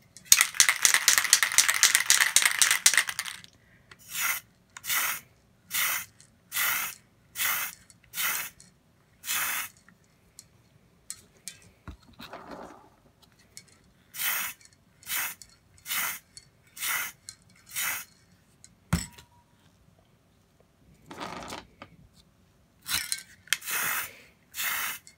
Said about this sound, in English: I'm going to hit this with the Tamiya Fine Primer